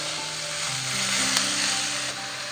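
Ground masala paste and coriander leaves sautéing in a pan for chole, a steady, moderate frying sizzle heard close up, with faint clinks of stirring and no talking.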